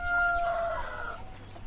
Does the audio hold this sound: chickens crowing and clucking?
yes